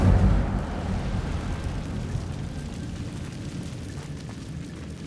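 Incendio fire spell cast in the Hogwarts Legacy video game: a roaring, rumbling burst of flame that starts loud and slowly fades into a steady crackling hiss.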